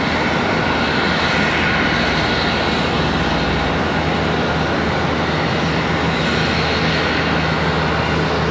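Contour Airlines ERJ regional jet at Charlotte airport, a loud, dense, unbroken jet engine roar holding steady across the whole stretch, with no voices over it.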